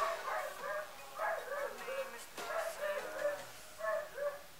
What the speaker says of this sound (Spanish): Así llora el perro de al lado.